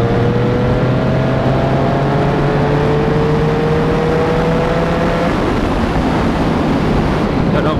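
Triumph Street Triple R motorcycle pulling in sixth gear at about 90: a steady engine drone with tones rising slowly, heavily mixed with loud wind rush on the microphone, with no talking.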